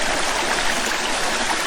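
Waterfall at Coopers Creek rushes in a steady, dense wash of falling water, loud and close, unbroken for its brief length with no voices.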